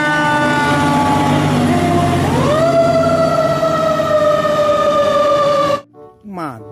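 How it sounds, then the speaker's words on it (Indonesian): A toy fire truck's siren wails loud and steady with a rising and falling electronic tone, then cuts off abruptly near the end, followed by brief faint fragments. "Wow, lihat, ada pemadam kebakaran."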